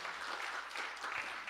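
Applause from a graduation ceremony audience at Nazarene University's graduate school, honoring an award recipient; steady, dense clapping spread across a hall, moderately faint and continuous.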